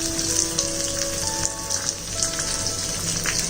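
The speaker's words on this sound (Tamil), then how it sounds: "இப்போது ஒரு 1/4 டீஸ்பூன் சோம்பு போட்டு தாளிச்சிருக்கேன்" Fennel seeds, chopped shallots and curry leaves sizzle and crackle steadily in hot oil, a close, continuous frying hiss with no talking.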